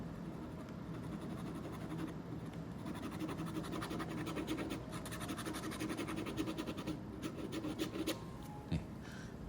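A dry brush drags across paper while shading wall shadows in a sketch, giving a quiet, close, continuous rasping scratch with rhythmic strokes and no talking.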